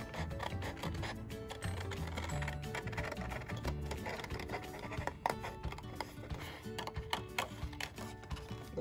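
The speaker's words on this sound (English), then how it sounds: "Then just cut out your second circle." Scissors snip through cardboard while cutting a circle for pompoms, a close, quiet series of rapid clicking, crunching cuts in an irregular rhythm with no talk.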